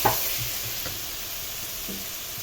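Washed Egyptian rice and vermicelli sizzle in a pan while being stirred, a soft steady frying hiss with a few light scraping knocks, close and alone.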